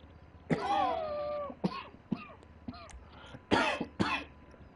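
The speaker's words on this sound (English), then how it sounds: "Oh, silly cough. Silly cough." Several coughs and throat-clearing bursts from a person during a live GTA V online gaming stream, close and fairly loud, spaced out in uneven clusters over a quiet background.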